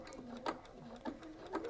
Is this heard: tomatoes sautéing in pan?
no